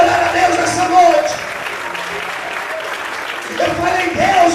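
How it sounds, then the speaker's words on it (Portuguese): A church congregation claps and applauds together during a worship service, a dense, steady wash of hands that swells near the start and end, with voices mixed in throughout. "Quantos podem aplaudir e adorar a Deus nessa noite?"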